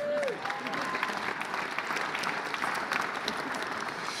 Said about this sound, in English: Yes, you can applaud for yourselves.